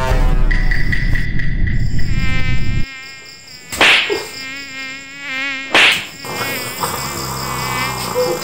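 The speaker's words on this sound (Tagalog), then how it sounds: "Daming lamok." Mosquitoes buzzing at night, whining close to the ear in thin high drones that rise and fade as they pass, with a couple of brief louder swells.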